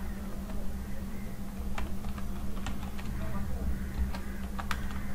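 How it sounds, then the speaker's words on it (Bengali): Typing on a computer keyboard while writing in MS Word, a sparse run of light clicks over a steady low hum, close and fairly quiet. "এখানে আমরা লিখলাম মিস্টার রহিম"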